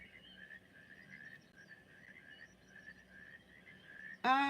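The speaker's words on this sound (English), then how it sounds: "It's actually my frogs." Pet frogs croak and trill in a steady, faint chorus with a high pulsing tone running through it, ending in a sudden louder burst of sound at the very end.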